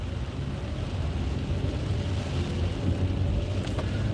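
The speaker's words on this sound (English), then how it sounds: "That is a nice amount of rain coming down" Heavy rain falling on a car while driving, heard from inside as a dense, steady roar of drumming water and road noise that holds constant throughout, with no talking.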